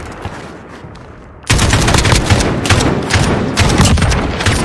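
Rapid video game gunfire from Modern Warfare erupts after a quiet opening, dense and loud bursts of automatic shots continuing steadily to the end.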